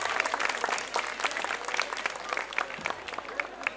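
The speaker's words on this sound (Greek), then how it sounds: "Δυνατό χειροκρότημα για όλους αυτούς." An outdoor audience at a village chestnut festival claps steadily, a moderately loud, even patter of many hands lasting several seconds, with faint voices underneath.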